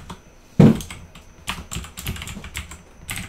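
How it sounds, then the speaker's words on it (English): Typing on a computer keyboard: close, irregular bursts of key clicks with one louder thump near the start. "So what I do now is I type in the title"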